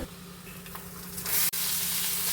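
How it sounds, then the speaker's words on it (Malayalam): Dried red chillies go into hot oil where rice grains are already frying. A soft crackle swells into a loud, close sizzle. "പൊരിഞ്ഞു കഴിഞ്ഞാൽ വറ്റൽമുളക് ഇട്ടു,"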